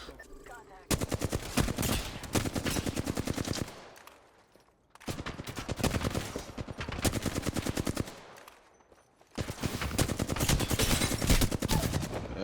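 Automatic weapon fire in Apex Legends comes in three long rapid bursts of dense repeated shots, separated by short quiet gaps, loud and close in the game mix.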